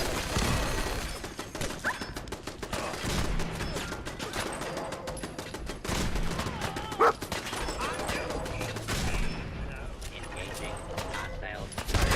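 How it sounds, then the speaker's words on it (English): Fallout 4 gameplay at Vault 81 with gunfire aimed at the player. Rapid bursts of shots and crashing impacts fill the scene almost continuously, loud and dense, while voices talk over the shooting. "Are you shooting at me, sir? Out of the way, I'm being shot."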